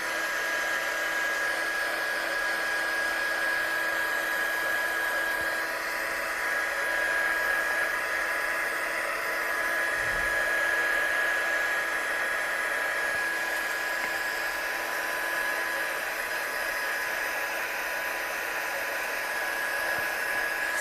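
A heat gun blows continuously over a craft card, a loud, even whoosh with a thin high whine that runs unbroken for about twenty seconds, with no voices.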